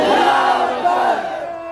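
A large crowd at a religious gathering roars back in unison in answer to the Nara-e-Takbeer call, a loud, sustained collective shout that swells and then slowly tapers off.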